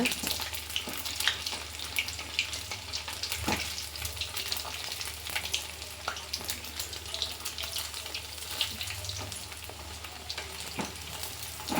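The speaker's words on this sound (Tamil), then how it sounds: "இது பொரியட்டும் வெயிட் பண்ணும் நண்பர்களே வடை பொரிஞ்சிருச்சு" Rice vadas deep-fry in hot oil with a dense, continuous bubbling sizzle and scattered crackles and pops, close by and without talk.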